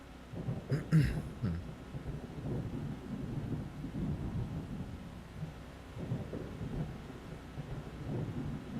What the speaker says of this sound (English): My goodness, this storm is just not dropping anything.